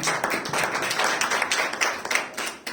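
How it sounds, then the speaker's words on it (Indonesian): A church congregation claps together during an evening prayer service, brisk dense handclapping filling a short stretch at steady loudness. "beri tepuk tangan untuk kemuliaan Tuhan"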